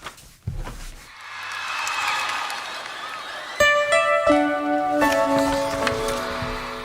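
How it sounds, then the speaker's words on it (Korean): A crowd's roar swells at a live concert recording of a song, then the music enters with sustained tones while cheering continues underneath. "라이브 버전입니다. 그래서 함성이 있어서 죄송합니다."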